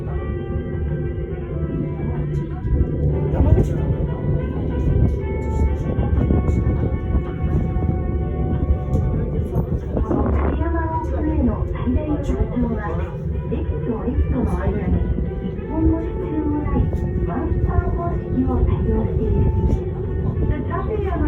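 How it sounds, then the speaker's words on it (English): Tateyama Ropeway cable car running on a single unsupported span of cable in the Japanese mountains, a steady rumbling and whining cabin drone with creaks, heard under continuous talk. "The Tateyama Railway is famous for using a single span of cable without a single supporting pylon."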